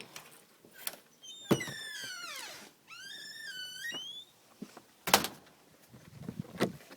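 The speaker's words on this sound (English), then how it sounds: "Gonna open up the door." A door swings open with two long, wavering, squealing creaks, each with a rising and falling pitch. A few soft knocks come before them and a sharp thunk follows in a quiet room.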